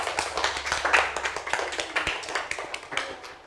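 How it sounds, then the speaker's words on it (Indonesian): A classroom of students claps together in a loose, fairly quick rhythm of distinct hand claps, moderately close and lasting a few seconds before tapering off. "Oke, kasih tepuk tangan dulu."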